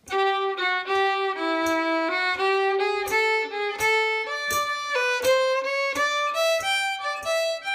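A solo fiddle plays the A part of the Dill Pickle Rag, lively bowed notes, steady and close, stepping through the melody with a light rhythmic pulse underneath.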